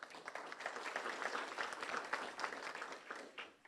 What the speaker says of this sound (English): Please give Richard a round of applause.